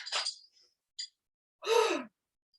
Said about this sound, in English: Take breaths through the nose.